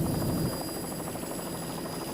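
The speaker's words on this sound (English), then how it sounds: "Mike Belgium, of course, the crew chief, is aboard our freeze-frame video helicopter, Patriot." A helicopter flies over a 1993 powerboat race in Islamorada, its rotor chop a rapid, steady beat heard close and continuous, slightly louder at the start.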